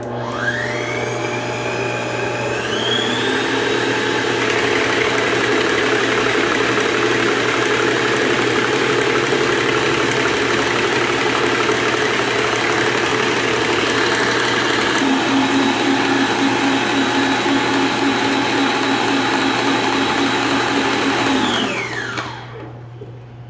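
Electric mixer whipping chilled chantilly cream to firm peaks, a steady loud motor whir with a high whine that holds for about twenty seconds before cutting off.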